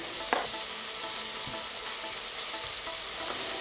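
Bacon fries in a little olive oil in a pan, giving a steady, close sizzle that runs without a break, with a few soft knocks of a utensil and no speech.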